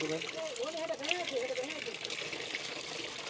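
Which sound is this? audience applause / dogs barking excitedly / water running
water running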